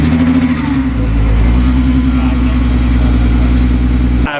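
A VR6-engined Volkswagen Jetta wagon runs steadily with a deep, throbbing low rumble and an even idle, cutting off abruptly at the end.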